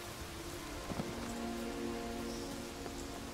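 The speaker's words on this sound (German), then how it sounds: "Es regnet, pisst, ist arschkalt" Steady rain falls on Skellige in The Witcher 3: Wild Hunt, a dense continuous patter with a low background hum and a few soft knocks.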